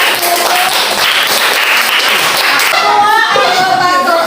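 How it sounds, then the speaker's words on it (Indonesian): Loud applause from a classroom of students for a class group, dense rapid clapping throughout that thins toward the end as a few voices rise. "Tepuk tangan untuk kelompok 1"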